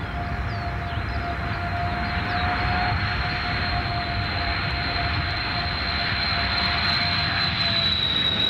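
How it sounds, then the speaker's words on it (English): An Armstrong Whitworth Argosy turboprop freighter flying low on approach to the Karewa Point airstrip, a loud sustained engine drone with steady high propeller whine, close and unbroken, with no voices. "even an aircraft as big as the Argosy really has to be flown all the way down to the runway."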